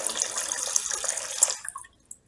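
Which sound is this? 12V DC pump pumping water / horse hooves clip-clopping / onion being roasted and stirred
12V DC pump pumping water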